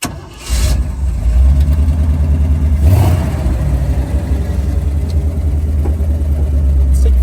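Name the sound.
V8 Jeep engine accelerating on a drive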